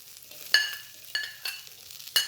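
Chilli skins scorching in a hot wok with onion, crackling in short bursts with a few sharp spits over a steady low frying hiss, close up and with no talking.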